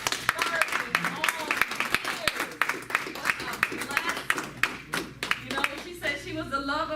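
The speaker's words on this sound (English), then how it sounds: "Please let's give her a round of applause." A small gathering claps in a round of applause for a woman being honored at a memorial presentation, with sparse, uneven hand claps, while voices talk and call out over and between them.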